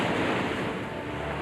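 Ocean surf surges against the rocky Maine shoreline at Thunder Hole, a loud, continuous wash of churning water and wind noise that slowly ebbs within a brief stretch.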